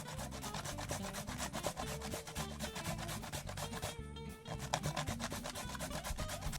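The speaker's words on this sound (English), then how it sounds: "So I am done grating my carrots." Carrots are rubbed against the shredding side of a grater, a fast rhythmic scraping of repeated strokes, close and fairly quiet, with one short pause midway.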